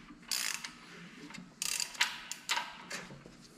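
Quarter-inch ratchet snugging down bolts on an assembled 5.3 Suburban engine with a DOD delete; close, quick bursts of clicking pawl ratcheting, several strokes in a row, no talking.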